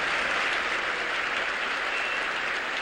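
A crowd at a 1973 Soviet gymnastics exhibition in Houston applauds gymnast Olga Korbut, with dense, even clapping sustained throughout at a strong, steady level.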